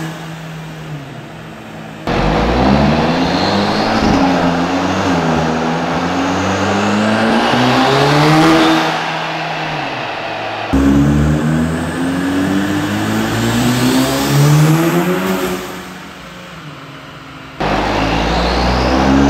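A forged-engine Audi S3 running nitrous accelerates hard in repeated loud pulls, its engine note climbing through gear changes, close and alone.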